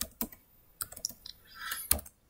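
Keys tapped on a computer keyboard while entering an Excel average formula, a sparse run of separate clicks and short bursts, fairly close and quiet, with no talking.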